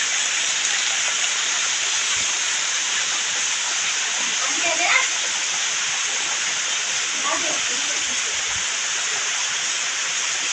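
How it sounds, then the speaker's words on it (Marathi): Heavy monsoon rain pours down during a storm in the Konkan countryside, a dense, unbroken hiss close by that stays loud and even from start to finish, with a few faint voices beneath it. "मस्त जोरदार पाऊस आलाय"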